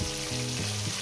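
Pieces of rohu fish fry in a pan, with a continuous sizzle and an underlying tonal hum throughout.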